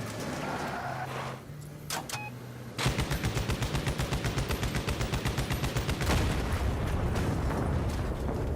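Video game machine gun in a raid setting, a steady rapid stream of evenly spaced shots running continuously for several seconds after a brief quieter lead-in, loud and close with no talking.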